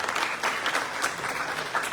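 A stage play audience claps continuously, a brief steady burst of applause at moderate volume.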